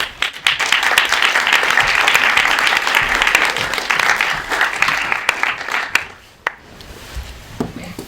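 An audience at a contemporary art talk in a gallery gives a loud, sustained round of applause welcoming the speaker, thinning into scattered claps and fading out near the end.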